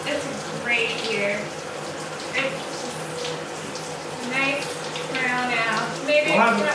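A running shower sprays a steady wash of water throughout, with people talking over it and occasional louder surges near the end.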